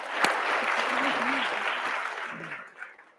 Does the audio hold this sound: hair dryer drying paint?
no